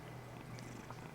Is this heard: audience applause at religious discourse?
no